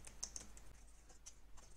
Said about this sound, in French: Je vais taper sur la touche Entrée de mon clavier